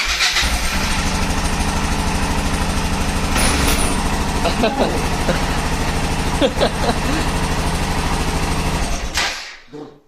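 A Yamaha XT 660 Z Ténéré single-cylinder motorcycle engine idling loudly up close with a rough, uneven, misfiring chug, a few voices talking over it before it cuts off.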